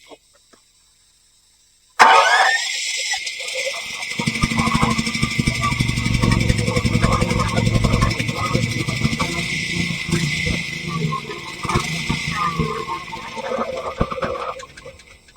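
A portable generator engine on choke cranks after a silent start, catches and runs on, a close, steady mechanical clatter that wavers slightly over the next dozen seconds.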